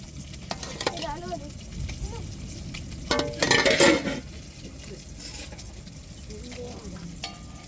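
Fish frying three at a time in hot oil, a steady close sizzle with a louder bubbling surge midway as pieces are stirred, outdoors in rain with faint background voices.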